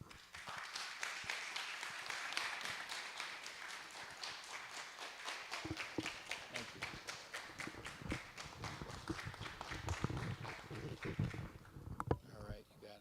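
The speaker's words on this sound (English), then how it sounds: "give him another round of applause for that awesome information" An audience at a school STEM showcase applauds after a talk, with dense sustained clapping that fades toward the end, mixed with some crowd noise.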